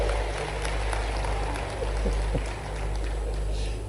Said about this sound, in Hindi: जरा ताली बजाओ तो दिल से बजाओ